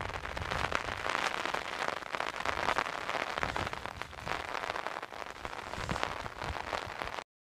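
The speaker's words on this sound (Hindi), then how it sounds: "ये देखिए बारिश टपक टपक, बूंदे टपक रही हैं।" Rain falls on a hilltop in an Indian village, its drops pattering in a dense, steady, fairly soft wash that continues unbroken and without voices until it cuts off abruptly at the end.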